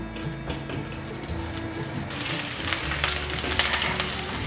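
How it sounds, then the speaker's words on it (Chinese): Ginger slices hit a little warm oil in a pan, and a soft background hiss swells into a steady, close, brighter sizzle with light crackles halfway through. "锅内放入少许油，感觉到有温热了，放入姜片，把姜片煎香"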